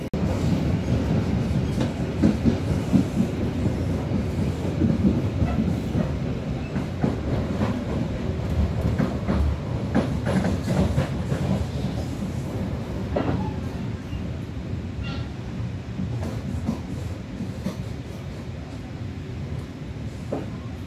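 A local train rumbles steadily with rhythmic clattering wheels, loud and close throughout, easing slightly as it rolls into Walantaka station in Java.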